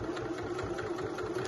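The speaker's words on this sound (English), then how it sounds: "So I'm just stitching right into that seam." Sewing machine stitching in the ditch along a seam on pyjama pants, a steady close mechanical hum with a fast even stitching rhythm throughout, alone with no talk.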